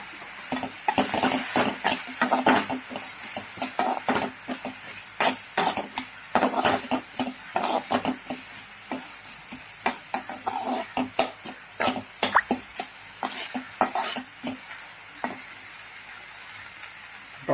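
Ginger garlic paste sizzles loudly in a hot pan for dal kanda, with frequent sharp spatters and crackles and some stirring scrapes against the pan.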